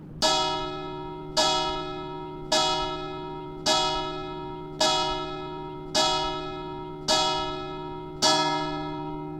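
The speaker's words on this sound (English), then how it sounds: "a bell rings out 8 times" A bell rings out eight times in even, unhurried strokes. Each loud strike hangs and fades before the next one comes.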